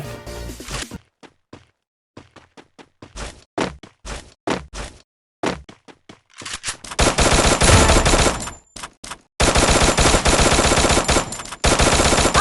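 Rapid bursts of gunfire from the video game Free Fire: scattered single shots and short volleys, then long sustained automatic fire near the end, loud and close with no talk.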